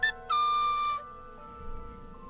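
A voice mimics the person's own car being shifted into drive. A short blip is followed by a steady, sustained whine lasting under a second, and then a quiet stretch with faint low rumbling.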